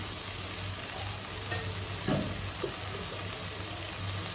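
Tomato and coriander sautéing in a pan for Tamil tomato-coriander chutney, giving a steady soft sizzle with a brief stir scrape near the middle and no talk.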